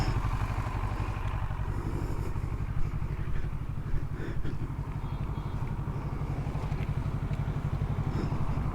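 A Kawasaki Versys 650 motorcycle idles in neutral close by, a steady low, pulsing engine putter with light mechanical clatter and no change in pace throughout.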